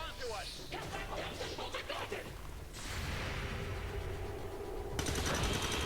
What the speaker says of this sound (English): Ready to shoot.